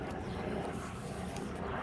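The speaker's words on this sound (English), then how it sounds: "There's a helicopter." A steady, broad rumble of a helicopter passing overhead, fairly distant and constant throughout, with no talking.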